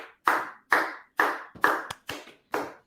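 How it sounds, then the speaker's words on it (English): Single pair of hands clapping slowly and deliberately, seven sharp claps at a steady, roughly half-second rhythm, close and clear with silence between. "let's everybody give a round of applause to ADEP and Battle Truth."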